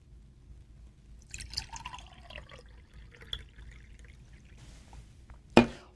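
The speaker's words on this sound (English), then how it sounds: "let's pour them into identical containers." Coloured chemistry solutions poured into identical containers in two separate pours, a trickling, splashing stream with drips, then a short sharp clink of glass at the end, all fairly close and with no talking.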